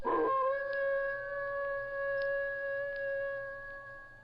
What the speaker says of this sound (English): then it leaned up and howled into the sky